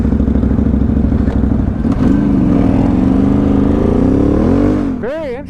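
A Renegade or Scrambler 1000 ATV engine on a trail ride drones loud and close, its pitch rising and wavering as it revs, then dropping away into a brief whine at the end.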